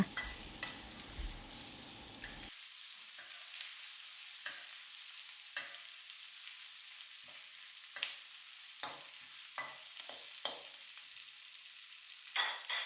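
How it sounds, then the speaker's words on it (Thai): Faint sizzling of shrimp stir-frying in a pan over medium-low heat, with intermittent scraping strokes of a utensil stirring, a short louder burst at the start, no voices. "ผัดจนกระทั่งกุ้งเริ่มสุกดีนะคะ"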